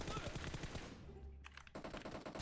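Gunfire in the video game PUBG Mobile: rapid automatic bursts, a short pause, then another rattling burst, faint and under game background noise.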